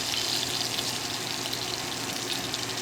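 Apple cider vinegar poured into buttermilk makes a steady, close liquid hiss and trickle that runs unbroken for a few seconds.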